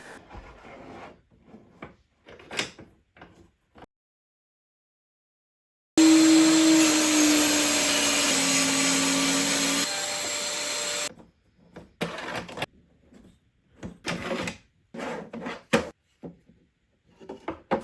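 Dremel mini circular saw on a portable saw station cutting through wood, a loud whining buzz lasting about four seconds, set between quieter bursts of rubbing, knocking and handling noises.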